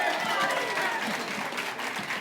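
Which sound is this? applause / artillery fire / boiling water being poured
applause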